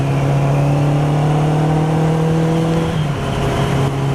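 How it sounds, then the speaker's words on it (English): A 1983 Kawasaki Z750 motorcycle cruises on a test ride after a fork oil change. Its engine hums steadily and close, with slight pitch shifts as the revs change, and wind noise runs underneath. "Now, test ride after the fork oil replacement."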